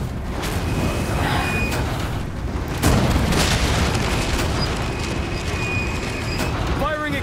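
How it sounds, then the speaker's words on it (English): Catapult shot explosion in the video game Resident Evil 4: heavy booming blasts and rumbling impacts fill the whole stretch, with a sharper crack near the middle over dense, continuous battle noise. "For once, didn't mind that catapult shot."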